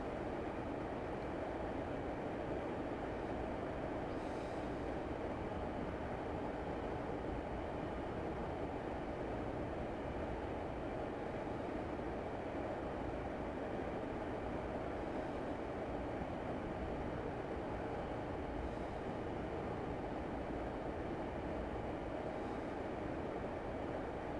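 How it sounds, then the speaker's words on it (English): Class 142 diesel multiple unit in a train simulator running along the line from Carnforth to Heysham and beginning to slow, a steady, even rumble and hum with faint periodic clicks, heard alone with no talk. "Just going to start slowing the train down now as we approach this 15 mile an hour limit."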